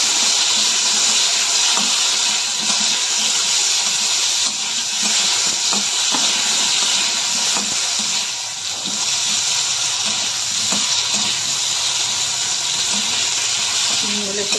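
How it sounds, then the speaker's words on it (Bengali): Katla fish fries in oil in a home kitchen with a loud, continuous hissing sizzle. The level is steady and close, rising and dipping only slightly throughout. "একটু ভালো করে ভেজে নেব।"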